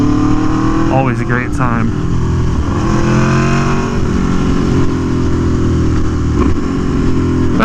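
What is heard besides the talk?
Aprilia Tuono V4 1100 motorcycle with SC Project exhaust cruising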